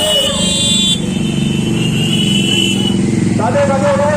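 Motorcycles in a political bike rally roll past with engine drone and repeated horn toots, loud and close, while someone speaks over a loudspeaker throughout.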